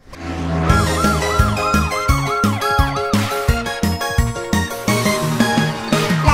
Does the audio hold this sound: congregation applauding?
no